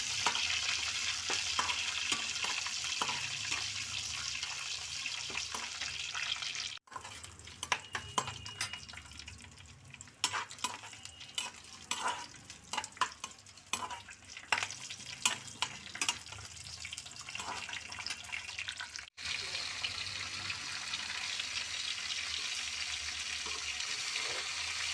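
Mustard seeds, urad dal, cumin, dry red chilli and curry leaves tempering in hot oil, a continuous close sizzle with frequent scraping stir strokes and crackles, a couple of brief breaks, and no talking.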